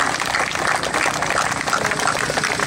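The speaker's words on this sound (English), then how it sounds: "Give yourself a round of applause." An indoor political gathering's audience applauds steadily, a dense continuous clatter of clapping hands filling the whole stretch with no pause.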